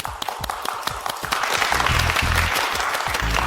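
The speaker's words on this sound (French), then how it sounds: "Vos applaudissements." Audience applause for a female contestant being welcomed onstage at a competition, a steady crowd clapping that swells louder after the first second and continues without any talk.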